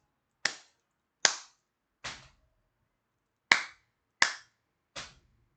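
A teacher in a math and music training session claps twice and then stomps a foot once, and the sequence repeats. The sharp, close hits stand alone in silence, and each stomp lands with a heavier, duller thud.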